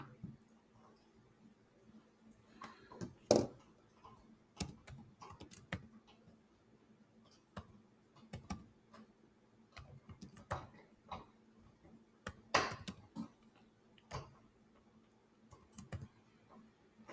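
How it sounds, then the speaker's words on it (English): Irregular bursts of keystrokes on a computer keyboard while entering math into the Desmos graphing calculator, close and moderately loud, with short pauses between clusters of taps and a faint background hum. "I'm going to go over to Desmos and type this in"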